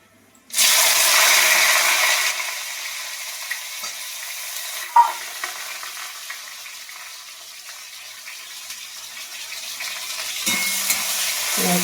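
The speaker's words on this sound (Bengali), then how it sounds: "পেঁয়াজটা আমি একটু ভালো করে নেড়ে চেড়ে ভেজে নিই" Onion drops into hot oil with a loud burst of sizzling, then settles into a steadier fry as it is stirred, with an occasional clack of the spoon close by.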